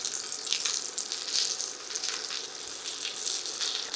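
Chicken tawa kebabs fry on a hot griddle, sizzling in a bright hiss with crackling spits that rise and fall throughout.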